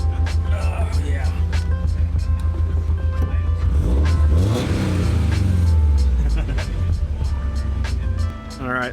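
A Subaru STI engine revs up hard and then eases back down. It is loud and close, with the rising whine held for a few seconds.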